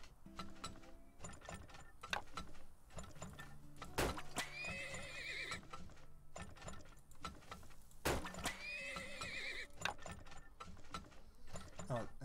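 Horse neighs ring out twice in the oil-drilling game Turmoil, each loud whinny standing out over a busy bed of clip-clop hooves, ratcheting gears and clanking mechanisms.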